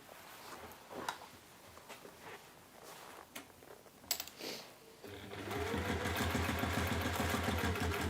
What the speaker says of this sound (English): you are going to top stitch all the way around the edge